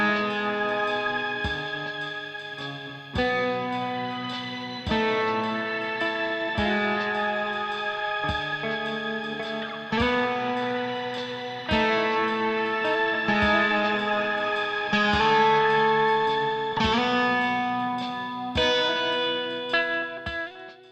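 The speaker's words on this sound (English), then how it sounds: "Holding the reverb foot switch pressed, you get a beautiful harmonic shimmer effect" Electric guitar through a NUX reverb pedal with harmonic shimmer engaged, a series of sustained chords struck about every two seconds, each ringing out with bright layered overtones and lingering wash, clean and close.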